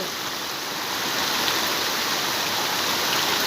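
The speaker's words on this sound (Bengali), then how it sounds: "বৃষ্টি পড়ছে" Heavy rain pours down in a dense, steady hiss that stays loud and unbroken throughout, with no voices, during a downpour in Chapra, Nadia.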